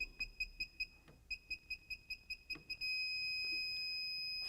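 A circuit breaker finder gives a fast run of short, high electronic beeps over breaker 18, pulsing evenly, then merging into one continuous steady tone, over quiet background hiss.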